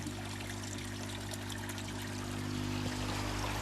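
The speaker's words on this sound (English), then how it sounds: "we're allowing it to flow out a lot faster so we can pump it and run it faster" Water flows out of a pond filter in a steady, continuous rush and trickle, close by under a low constant pump hum, with no talking.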